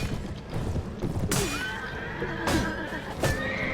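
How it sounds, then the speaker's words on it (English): A horse in the medieval battle game Mount & Blade: Warband, modded, lets out a sharp neigh and whinny amid clip-clopping hooves and battle clatter, with several loud high bursts in quick succession and no talking. "Okay, our horse knocked down."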